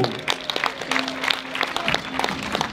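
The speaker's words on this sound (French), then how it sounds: "Vos applaudissements pour Amaury Capio." Audience applause at a Paris-Roubaix 2022 cycling race team presentation, moderate clapping heard from a distance with scattered sharper claps and a faint tonal hum underneath.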